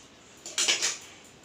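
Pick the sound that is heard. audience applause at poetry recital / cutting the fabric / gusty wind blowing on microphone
cutting the fabric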